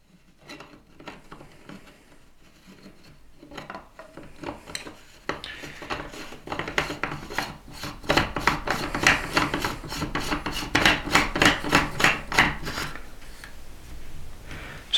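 Dry rasping scrapes repeat rapidly and grow louder as a telescope rotator ring with a field flattener is screwed into an RVO 72mm ED Horizon refractor, heard close and alone.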